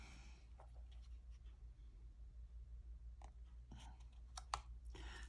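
Writing and doodling with a white pen around the edge of a scrapbook layout, heard as soft intermittent scratchy pen strokes and light taps, close and quiet over a low steady hum.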